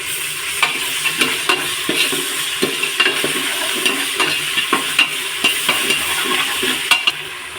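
Sliced onions with ginger-garlic paste sizzle steadily in a pan for a Tamil-style paruppu sadam, with a ladle scraping and stirring in frequent, rhythmic clicks close up and no talking.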